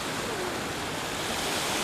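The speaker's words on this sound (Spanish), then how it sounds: "No sé si lo veis, pero hay olas en el río." Small waves lap steadily on the River Thames in London, a continuous broadband wash of water heard up close with no voices.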